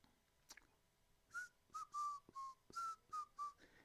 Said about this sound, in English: Anytime I whistle, I love to whistle.